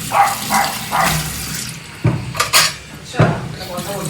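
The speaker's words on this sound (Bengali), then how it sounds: "হাতটাকে ধুয়ে নিই।" Hands washed under a running kitchen tap, water splashing in bursts near and fairly loud, with clattering dishes and brief voices around it.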